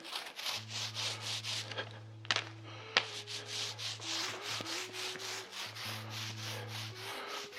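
A paint roller is rubbed back and forth over a wooden block for a Metal-style guitar neck head, giving repeated close scraping strokes in an even rhythm, with a couple of sharp knocks.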